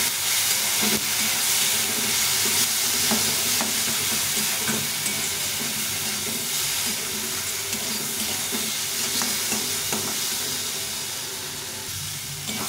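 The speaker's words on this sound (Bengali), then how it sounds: "আর একটু লঙ্কা গুঁড়ো দিয়ে এটাকে ভালো করে ভেজে নেব" Spiced onion and tomato with turmeric and chilli powder fry in a pan, giving a loud, steady sizzle and hiss with faint stirring scrapes throughout.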